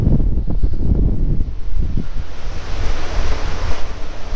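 Strong wind gusts over a sown winter barley field, a loud, steady broadband roar with blustery buffeting against the microphone and no talk.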